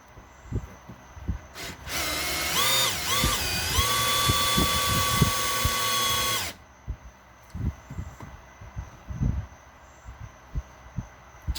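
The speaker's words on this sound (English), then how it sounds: "make sure your drill is still turned when you back it out" A power drill whirs loudly for several seconds, its pitch dipping and rising, then stops, leaving scattered knocks and taps.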